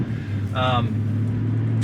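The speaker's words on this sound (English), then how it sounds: "as soon as I let my foot off the brake, car starts back up" A Chevrolet Tahoe engine restarts after an auto stop, bringing a low steady idle rumble that holds under the cabin quiet while someone talks briefly over it.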